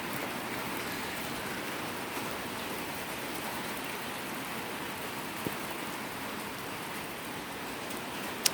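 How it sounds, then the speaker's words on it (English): Heavy rain pours steadily on a motorcycle ride aboard a Harley-Davidson Pan America, a dense, even hiss of drops holding at a constant level from start to end with no talk. "Here comes the rain again. Gotta love the rain. It's just been pissing down."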